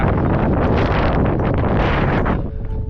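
Strong wind at Red Rock Canyon near Las Vegas blows steadily across the microphone, a loud, continuous rumbling roar that eases slightly near the end.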